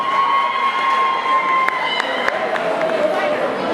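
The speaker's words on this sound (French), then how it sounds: "qu'on applaudit très fort s'il vous plaît." A pageant audience at the Miss Cameroun Suisse 2016 final cheers and applauds candidate number 9, a steady crowd roar with shouts, and a sustained tone and brief electronic sounds running over it.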